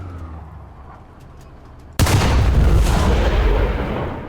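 Tank cannon in the War Thunder video game, a sniping tank, fires a single loud booming shot from outside after a quiet stretch, the blast rumbling and fading over the next couple of seconds.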